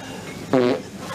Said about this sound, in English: You're farting in a restaurant.